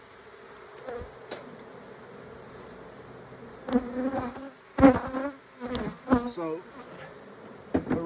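Honey bees buzz around a beehive newly topped with an added box of Amish frames, a steady close drone with louder bursts as individual bees pass near, and one brief spoken word.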